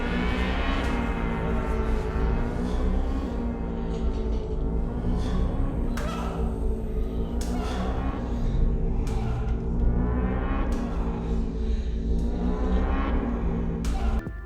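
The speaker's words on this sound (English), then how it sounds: "there's a very strong, anxiety-inducing rhythm playing during this entire club scene" Pulsing, anxiety-inducing rhythmic score from the club scene of the 2002 film Irréversible, a dense low drone with steady repeating swells running loud and continuous throughout, no voices.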